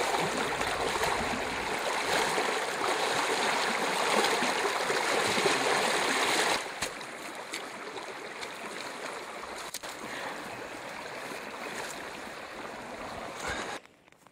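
A river flows steadily in the Yukon wilderness, a loud continuous rushing wash that drops to a softer, still unbroken flow about halfway through, with no voices.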